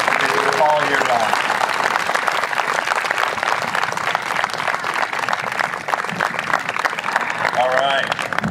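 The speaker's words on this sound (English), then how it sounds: "I'd like to give them a round of applause and appreciation for the hard work that they do all year long." Sustained applause from an audience at a New York State Police Underwater Recovery Team diving demonstration, a steady wash of clapping lasting several seconds, with voices and brief cheers or whoops rising above it near the start and end.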